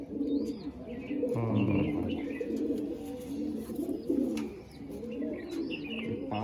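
Champion-bloodline racing pigeons in a loft coo close by in throaty, repeated rolling calls, with soft chirps and rustling mixed in and someone speaking briefly over them.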